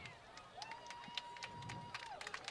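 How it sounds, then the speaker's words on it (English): Fans in the stands at a high school football game between McClintock and Cienega cheer from a distance, and scattered shouts and claps rise over the crowd noise while a sustained whistle-like tone sounds in the middle. "There you hear the cheers from the fans."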